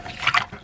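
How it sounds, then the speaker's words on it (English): Birch branches are rinsed in water, giving a short, close splash and swish of liquid that rises briefly and then settles, with no one speaking. "just simply rinse them in water"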